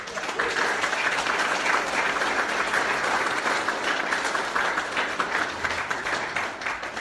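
A crowd at a 2017 Connecticut Green Party event in Portland applauds in a dense, sustained burst of clapping that fades slightly toward the end.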